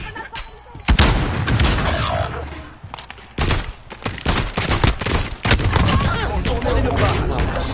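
Video game battle with a thrown grenade going off, heavy booming blasts and bursts of gunfire in loud, dense waves, several sharp explosions punctuating the din.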